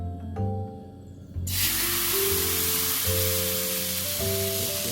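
Butter hits a hot pan for an ube halaya dessert and bursts into a loud, steady sizzle that starts abruptly and holds to the end, under low background music.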